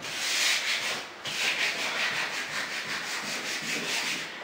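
Sandpaper scrubs back and forth across a fiberglass door in quick, even rubbing strokes, close and steady, with a brief pause partway through and no talking.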